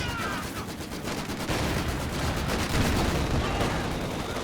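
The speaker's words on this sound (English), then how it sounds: "Heavy machine gun! It's got our range!" Heavy machine gun fire in the Company of Heroes 2 strategy game, a dense, continuous rattle of rapid shots with battle noise, loud and sustained throughout with no voices.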